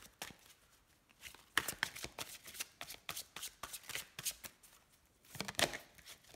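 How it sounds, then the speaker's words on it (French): A deck of cards is cut and shuffled close by, a run of quick riffling bursts and soft flicking snaps repeating unevenly, with no talking. "On va faire une coupe avec celui-ci."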